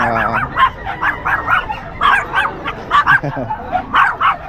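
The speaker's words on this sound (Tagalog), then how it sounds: "ayan mga Pomeranian" Several Pomeranian dogs at a busy pet market yap and bark in quick high-pitched bursts close by, with some whimpering and light background voices.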